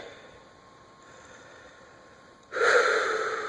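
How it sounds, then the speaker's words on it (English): Labored, heavy breathing from a person who is short of breath, a faint airy hiss at first that swells into a louder, harsh breath near the end, with no talking. "just breathing"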